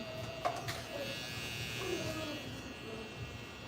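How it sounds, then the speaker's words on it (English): Sabers digital brushless-motor hair trimmers run with a steady close electric buzz and hum throughout, the tone wavering slightly as they move, with faint handling sounds. "These trimmers are digital brushless motors."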